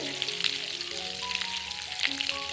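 Curry leaves sizzle and spit in hot butter and sunflower oil, a steady close frying hiss with scattered sharp crackles and pops.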